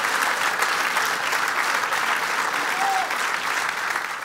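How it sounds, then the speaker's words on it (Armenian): Loud, sustained audience applause at a television dance show staging, steady and dense throughout, fading slightly near the end. "բարձր ծափահարություններ։"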